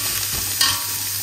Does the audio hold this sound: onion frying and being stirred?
yes